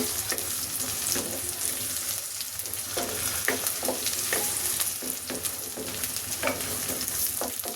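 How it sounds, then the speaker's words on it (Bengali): Pointed gourd (potol) frying in a pan with oil, a dense steady sizzle running throughout, broken by repeated scraping stirs of a spatula, close and fairly loud, no voices. "এখন আমি এর মধ্যে পটলটাও দিয়ে দিচ্ছি, পটলটা দিয়েও একটু ভেজে নেই।"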